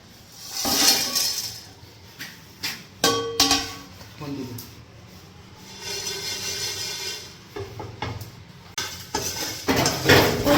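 Whole spices for a chicken dum biryani, including white pepper, cumin, cardamom, cinnamon, nutmeg, mace, cloves, bay leaf and coriander seed, dry roast in a pan with repeated clinks and scrapes of a utensil against metal, close and uneven.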